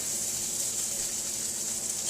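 Steady, soft sizzling and crackle of livermush frying in a pan, a continuous hiss with no talking.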